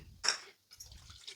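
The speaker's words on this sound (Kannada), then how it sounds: "ಇದಕ್ಕೆ ಒಂದು ಸ್ವಲ್ಪ ನೀರು ಹಾಕೋಣ" A short splash of water poured into a bowl of puri batter, followed by soft, wet squelching as the thick mixture is stirred close by.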